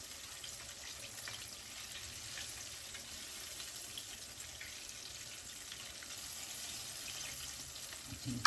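Cajun turkey wings deep frying in oil, giving a steady, dense sizzle and crackle that holds evenly throughout with no talking.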